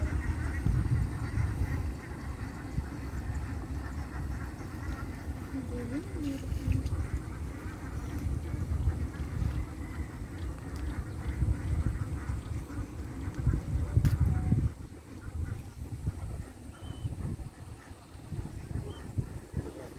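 Ducks quack on a farm where they are being looked at for purchase, calls scattered through the clip under a steady bed of people talking nearby.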